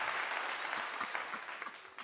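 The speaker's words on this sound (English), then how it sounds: "Hey, round of applause" Audience applause at a live talk show event, a steady wash of many hands clapping throughout, fairly distant and moderate in level.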